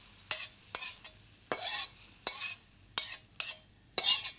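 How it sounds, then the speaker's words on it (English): Stir-fried beef from a wok tipped through a metal strainer, with repeated sharp scraping, clattering bursts of meat and oil, about seven close, loud strokes separated by brief pauses, no talking. "quickly take the meat out and put it through a strainer"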